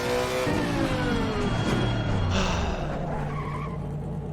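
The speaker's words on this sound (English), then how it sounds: "you can hear the shudder from the traction from the ABS actually" A racing car engine roars at high revs in the video game Assetto Corsa Competizione while tires skid and squeal, with a rough ABS traction shudder under the steady, loud engine drone.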